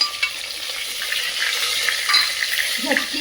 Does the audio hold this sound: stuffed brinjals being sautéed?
yes